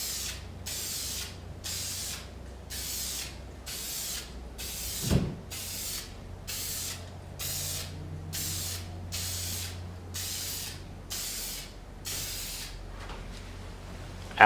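Spray gun laying clear coat over fresh paint on a car during a small rust-hole repair, hissing in about thirteen short, even bursts with brief pauses between, close and steady, no talking.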